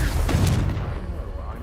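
Confringo blasting spell going off in Hogwarts Legacy, a deep booming burst that swells early and then rumbles away over about a second, heavy and close.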